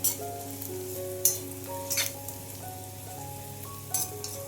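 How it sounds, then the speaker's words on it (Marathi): Chopped onions with a pinch of turmeric sizzle steadily in a pan for spicy misal, with a few sharp scraping knocks as a spoon stirs them. "कांदा छान परतला आहे आता आपण त्यामध्ये थोडीशी हळद घालायची हे छान आता आपण हलवून घेऊया"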